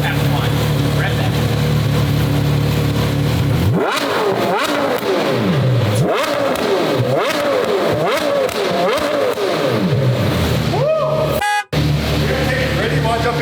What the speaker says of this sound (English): Carrera GT World Challenge Sport Exhaust